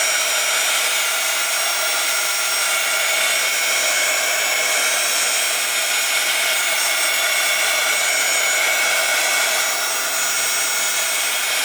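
A hair dryer blows steadily and loudly over a wet watercolor painting of a loose fall scene done with carmine paint, one unbroken airy roar with no talking.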